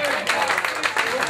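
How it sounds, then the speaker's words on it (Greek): An audience at a rock bar in Kozani breaks into clapping and cheers, a dense close wash of applause with someone speaking over it. "Δώστε ένα χειροκρότημα"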